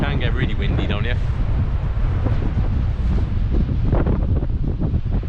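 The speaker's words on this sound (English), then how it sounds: "So it can get really windy down here." Strong wind at a Bristol Channel shore buffets the microphone in loud, continuous low rumbling gusts, with someone talking over it.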